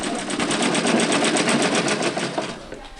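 A sewing machine used by students learning to sew runs in one continuous, loud, close burst of fast rhythmic stitching.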